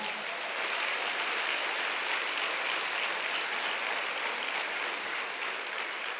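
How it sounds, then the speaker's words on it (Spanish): A church congregation applauds during a sermon, a continuous wash of clapping that holds steady at a moderate level throughout, with no speech on top. "Dale un aplauso fuerte al Señor."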